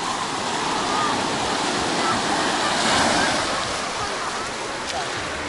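Sea waves washing onto a beach in Turkey, a loud, continuous rushing surf with a gentle swell in the middle, steady and close throughout.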